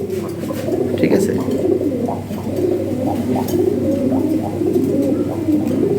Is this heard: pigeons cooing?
yes